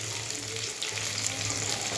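Taro, potato and prawn curry sautéing in a pan with onion, a steady close sizzle running throughout with a low hum beneath and no talking.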